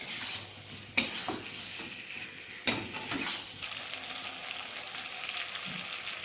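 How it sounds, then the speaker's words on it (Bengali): Potato pieces fry in a spiced masala with a soft, steady sizzle, and two sharp metal clanks of a spoon against the pan are heard as they are stirred, fairly close and with no talk. "এবার এর মধ্যে আলুগুলো দেবো, দিয়ে মশলাটার সাথে একটু কষিয়ে নেব"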